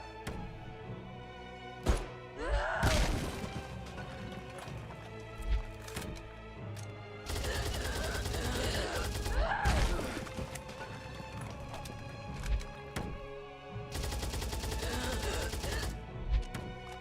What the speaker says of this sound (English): That was a lot of bullets to the arm and did nothing.